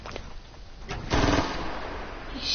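Automatic gunfire in a shooting video game, a burst of rapid shots loud and close, following a few quieter earlier pops, with no talk over it.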